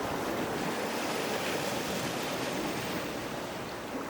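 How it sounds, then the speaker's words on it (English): Waves wash against the Lake Superior shore in a soft, continuous surf, faint and steady with a little wind noise over the microphone. "Spending time on the shores of Lake Superior feels like spending time by the sea, a cold, freshwater sea."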